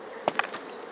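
Honey bees at an open hive during a spring inspection give off a faint, steady buzzing drone, broken by a couple of brief clicks, with no voices.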